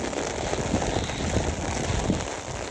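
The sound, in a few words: rain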